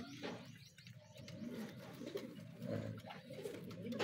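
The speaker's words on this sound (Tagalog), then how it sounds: "Ano, gandang kalapate to." Breeder racing pigeons coo softly in a loft, low murmuring calls repeating close by over a faint background hum, with no talking.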